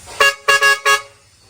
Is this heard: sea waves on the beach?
no